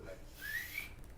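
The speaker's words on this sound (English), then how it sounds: "I whistle." A person whistling in a live cafe show setting, a brief thin rising whistle tone, fairly faint, with no talking over it.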